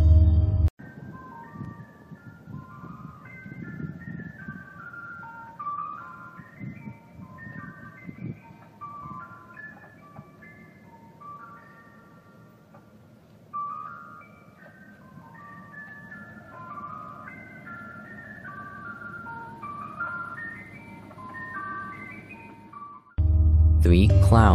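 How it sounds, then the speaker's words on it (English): A tinkling, music-box-like chime melody loops steadily from an ice cream truck's loudspeaker, sounding eerie and detached, with faint background noise beneath it and a loud thump at the very start and end. "an ice cream truck playing creepy music"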